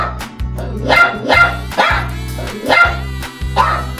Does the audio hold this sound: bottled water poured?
no